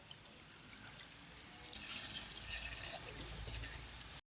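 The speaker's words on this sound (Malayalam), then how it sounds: "നമുക്ക് പാൽ ഒഴിക്കാം" Milk is poured for a homemade juice as a soft, continuous liquid stream that swells slightly and then stops abruptly, heard faintly and close with no voices.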